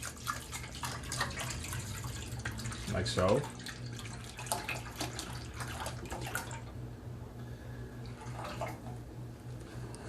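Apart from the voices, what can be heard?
milk pouring into a Dutch pot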